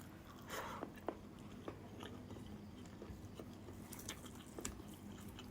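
Someone chews grilled pig intestine (isaw) close to the mic, making faint, irregular soft bites and squishy crunches over a low steady background hum.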